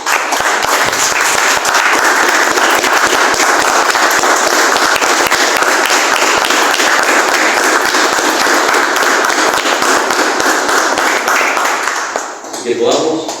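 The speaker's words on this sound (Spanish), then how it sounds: "Démosle un fuerte aplauso al dador de la vida." A church congregation gives a loud, sustained round of applause, thick continuous clapping that holds for many seconds before cutting off abruptly, with a voice entering at the end.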